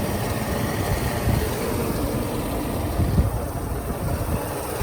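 A 1994 Mercedes-Benz S500 Coupe engine idles smoothly and steadily up close, a continuous low rumble with no talking over it.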